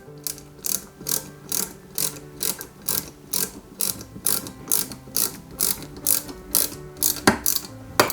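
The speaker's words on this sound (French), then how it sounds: "on y met 3 vis EM pour maintenir ces deux belles pièces en métal" Small screws being driven into metal parts of a Robocop cyborg model kit, heard as a steady run of quick ratcheting clicks from a screwdriver, close and fairly loud, with no talking.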